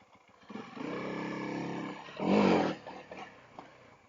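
Honda CRF300L motorcycle pulling away, a steady engine drone that swells into a brief louder rev before settling back to a low idle-like hum, close by with no talk.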